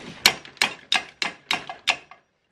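A small hammer taps a brake line flare held in a flaring yoke for a bubble flare on a leaking car brake line, with six sharp, evenly spaced metallic strikes, close and fairly loud, with no talking.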